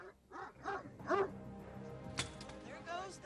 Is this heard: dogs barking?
yes